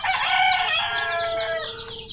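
A rooster crows loudly over a dense, continuous chorus of chickens clucking and squawking nearby while being fed.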